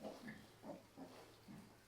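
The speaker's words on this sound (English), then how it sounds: "These piglets are desperate for food." Piglets on a farm grunt and oink in short bursts, several close rapid snorts repeating at a steady rhythm over a low steady hum.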